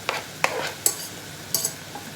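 Garlic cloves dropped into a cooking pot with stock, a few light knocks and clinks with soft stirring and faint sizzle between them.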